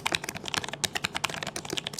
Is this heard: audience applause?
no